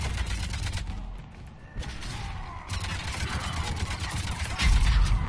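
Pistol gunfire in the Mass Effect 3 video game, repeated sharp shots over a dense, noisy combat background with rumbling low end, loud and close.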